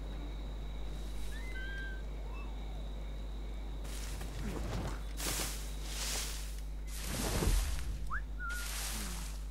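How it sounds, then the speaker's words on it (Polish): A short rising whistle rings out early in Assassin's Creed IV: Black Flag over a steady ambient bed, followed by several broad rushing swells that sound like water or wind. "Gwizdnięcie."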